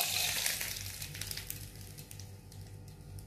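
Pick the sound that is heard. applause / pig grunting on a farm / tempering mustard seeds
tempering mustard seeds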